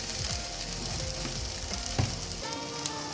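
Potatoes fry in oil in a pan with a dense, continuous sizzle close by, broken by occasional stirring clatters and a brief scrape partway through.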